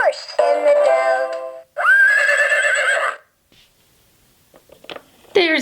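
Two loud, close horse neighs sound one after another from a Farmer Eddie See N' Say farm-animal toy, followed by near silence and then faint clicks.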